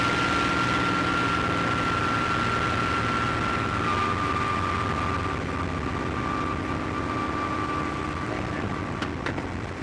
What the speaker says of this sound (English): Alright, power's coming back.